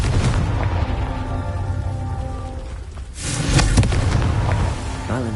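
A Confringo blasting spell explodes in Hogwarts Legacy, a dense roaring burst that swells midway amid a continuous rumbling, crackling game soundscape, loud and close.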